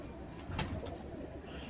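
A pearl-marked French pigeon coos softly in a loft, its low murmuring notes faint against a steady background hiss, with one slightly louder swell in the middle.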